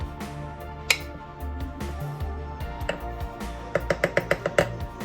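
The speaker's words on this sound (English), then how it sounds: "I'm gonna put the rest of these sausages in with the grits. Get all of them, yes. So I'm gonna give it another stir." Sausages and grits being stirred in a pot for breakfast, a scatter of light metallic clinks and scrapes that tighten into a quick, rhythmic run of taps near the end, close by with no talking.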